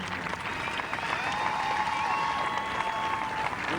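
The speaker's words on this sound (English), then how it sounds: "the crowd gives its acclaim for one of the great legends" Sustained applause rises from a golf tournament gallery at Emirates Golf Club in Dubai during the 2008 Ladies Masters, honoring a legendary women's golfer; steady, dense clapping from a large outdoor crowd fills the whole moment.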